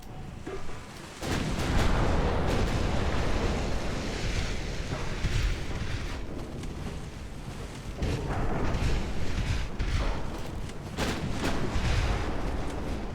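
Heavy naval gunfire from an Alsace-class battleship in a warship video game, a sustained dense roar of booming salvos and rumbling blasts with no clear gaps, loud and close, layered over a wash like sea and wind.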